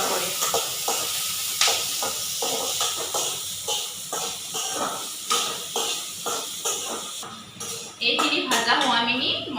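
Onion and green chilli fry in a pan with a steady sizzling hiss, broken by repeated scraping stir strokes, while a voice talks over the cooking.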